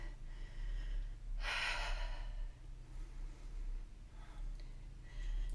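A deep inhale during a standing flow yoga class, a single breathy intake of air about a second long over a low room hum, followed later by a softer breath.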